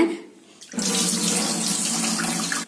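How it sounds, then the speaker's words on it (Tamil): Soaking water drained off foxtail millet, a loud close gush of running water starting suddenly after a brief quiet moment and flowing steadily to the end. "இப்ப என்ன செய்யறேன்னாங்க, இந்த தண்ணியை வடிச்சிடலாங்க."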